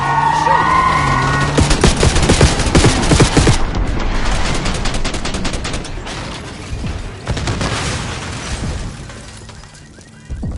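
Gunfire during a Call of Duty Black Ops 6 campaign street fight, with dense, loud volleys of automatic shots and booms that come in waves, thin out briefly, then return, with shouted voices mixed in.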